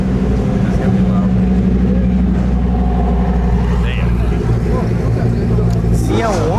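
A loud Lamborghini engine rumbles deep and steady at a car gathering, a close, sustained roar with revving near the end, while people talk over it.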